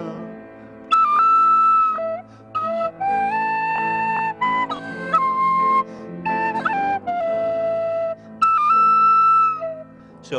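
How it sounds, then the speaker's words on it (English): A tin whistle plays a solo melody within a song, with sustained, slurred notes that rise and fall in steady phrases, loud and close with short breaks between phrases. "So clearly, a longer tin whistle solo is needed there."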